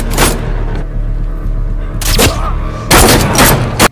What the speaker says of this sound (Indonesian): Dalam baku tembak di dermaga, Shaw dan Kane terlibat konfrontasi sengit.